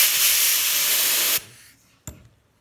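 Carburetor cleaner sprayed in a loud, steady hiss through the holes of a Troy Bilt sickle-bar mower carburetor, lasting over a second before cutting off, followed by a brief second burst.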